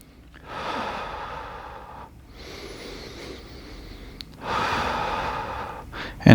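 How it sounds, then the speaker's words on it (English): Slow, full breaths during a skateboard yoga session, heard as three long, close airy inhale and exhale swells with short pauses between, and no talk. "Breathe slow and full."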